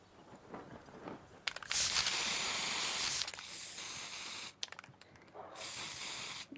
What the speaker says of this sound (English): My spray paint.